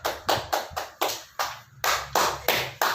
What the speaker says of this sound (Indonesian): Oke, tepuk tangan untuk Intan.